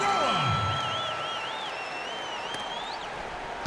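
Arena crowd in the NBA 2K16 basketball game, a Chicago home crowd cheering for the Bulls before the Cleveland Cavaliers matchup: a steady wash of distant crowd noise with a rising and falling whistle-like tone over it.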